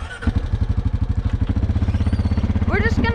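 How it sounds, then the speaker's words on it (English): An ATV with 28-inch BKT tires idles in thick mud, its engine still breaking in new pistons, giving a steady loud rapid chugging pulse throughout, with a brief higher squeal near the end. "today I'm going to be idling through this mud right here because my pistons are still breaking in"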